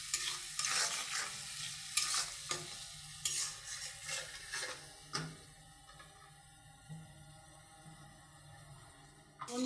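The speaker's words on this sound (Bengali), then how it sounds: "চিংড়ি মাছটা ঢেলে দিলাম আমি" Prawns frying in a turmeric spice paste in a pan, a soft steady sizzle with repeated scraping stirs of a spatula, close and quiet, without talk.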